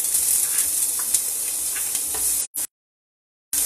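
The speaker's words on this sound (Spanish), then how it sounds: "El clásico sonido de cuando la cebolla hace contacto con el aceite es la maravilla" Chopped onion hitting hot olive oil in a pan, a loud close sizzle with soft stirring clicks, then a short dropout and near silence before the hiss returns at the end.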